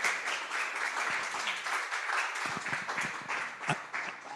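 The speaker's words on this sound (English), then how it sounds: "let's give Roger a big round of applause for his presentation" A seated audience at a presentation breaks into applause after a talk, a steady wash of many hands clapping at moderate distance, a few sharper claps standing out near the end.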